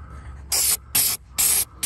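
Eastwood heavy duty anti-rust sprayed from an aerosol can onto a 1987 VW Vanagon Syncro Westfalia: three loud, close hissing bursts of about a quarter second each, separated by short pauses.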